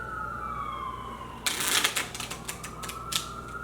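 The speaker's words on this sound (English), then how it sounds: "Excuse the Sirens." Emergency vehicle siren outdoors, a steady wailing tone held through the first part before dropping lower, with a burst of clattering, shuffling noise in the foreground partway through.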